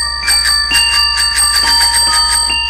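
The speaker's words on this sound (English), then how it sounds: "a little bell that I can ring" A small tricycle bell rings rapidly and continuously, its bright metallic tone repeating in quick, even strokes close up with no talking.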